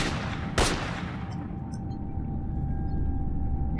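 Gunfire in S.T.A.L.K.E.R. Shadow of Chernobyl, a single sharp close shot early on, then steady low rumbling ambience with faint distant effects.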